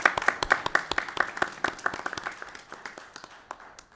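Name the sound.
round of applause at county commission meeting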